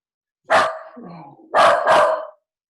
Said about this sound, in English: My dog never barks. He's barking at something.